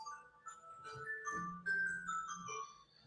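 A phone alarm chimes softly with a short series of bright, bell-like tones in a quiet room, faint and unaccompanied.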